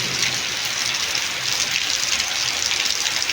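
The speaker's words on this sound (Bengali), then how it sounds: "বলতে বলতে বৃষ্টির তোড় আরও বেড়ে গেল" Heavy rain pours in a dense, steady hiss that stays loud and even throughout, with no voices.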